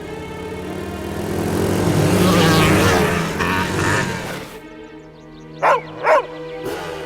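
A dog barks in a Lassie cartoon, two short sharp barks and a fainter third one ringing out after a loud swell of music and cartoon noise fades.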